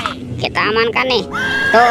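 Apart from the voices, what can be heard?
toy zebra neighing sound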